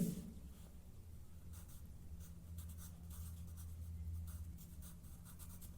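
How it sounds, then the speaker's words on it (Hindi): Pen or pencil writing in a school workbook during a Grade 3 environmental studies lesson, a soft continuous scratching across the page with small pauses, close and alone. "हम लिखेंगे"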